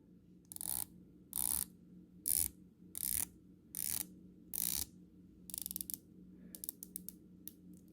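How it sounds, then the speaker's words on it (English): The rotating bezel of a Christopher Ward C60 Trident GMT watch clicks through several quick ratcheting runs separated by short pauses, finishing with a faster scatter of crisp, close clicks. "So while we're talking about the bezel, let's check out its turn action."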